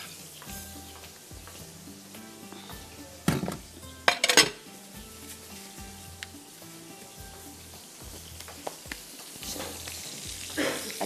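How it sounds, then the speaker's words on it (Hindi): A burger frying in a pan sizzles steadily while a bun toasts beside it. Sharp clinks of utensils against the pan punctuate the crackle, with a few louder knocks near the middle and no talk. "जब ये फ्राई हो जाएगा तो यहाँ पर मैं थोड़े से बर्गर बन को हल्का सा टोस्ट कर लेती हूँ"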